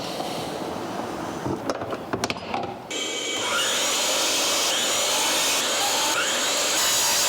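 A miter saw cutting wooden pieces to 54 degrees for a wooden star: clattering handling sounds first, then a steady loud whining cut that continues to the end.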